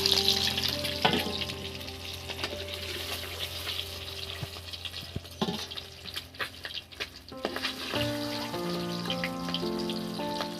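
Boiled eggs frying in hot oil, a close crackling sizzle with bursts of popping, interrupted by clattering utensil knocks as pieces are lifted from the pan; no talking.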